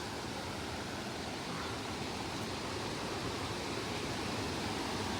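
A cold mountain creek rushes steadily nearby, a dense, even broadband wash of flowing water filling the whole stretch with no voices.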